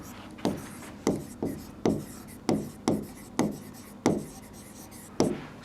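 A teacher's chalk strikes a classroom board in a steady series of about nine sharp taps with brief scraping tails, each roughly half a second to a second apart, close and clear.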